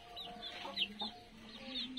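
Desi chickens cluck and murmur continuously on a hot farm, with overlapping low calls and a few sharper squawks from several birds nearby.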